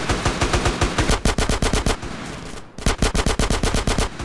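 Automatic gunfire in GTA: San Andreas, loud close bursts of rapid shots in a steady rhythm with a brief pause before firing resumes, with no talk.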